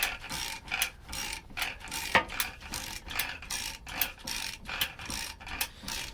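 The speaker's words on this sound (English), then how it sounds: "I can put ratchet on. So I just gotta sit here, crank the whole thing in by hand." A hand ratchet cranking a long shaft with a nut welded on its end, giving a close, repetitive rhythm of clicking pawl strokes with short pauses between pulls.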